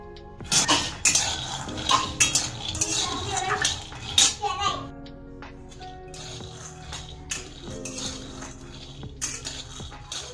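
Peanuts roast in a metal kadhai on a gas stove, rattling and scraping in irregular bursts as they are stirred and tossed, with sharp clinks of a spoon against the pan.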